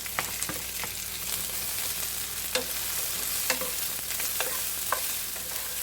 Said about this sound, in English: Now for those, I'm going to go ahead and put the mushrooms in.